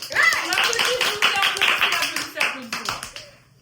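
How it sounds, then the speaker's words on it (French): A classroom of students claps their hands in a quick burst, a loud, dense patter of claps fading out toward the end, with voices talking over it. "Applaudissez."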